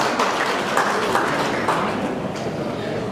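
Guests and audience at a 50th birthday celebration clap steadily for a couple being honoured, a dense, even wash of applause that fills the room throughout.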